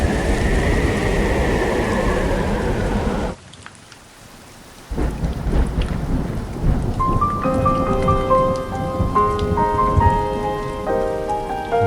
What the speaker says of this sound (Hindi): बारिश में फिसलते हुए,